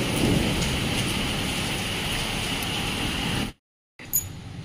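Heavy rain pours steadily in Odisha on a cold morning, a dense, loud, continuous hiss that cuts off abruptly near the end, then returns more faintly with a brief knock.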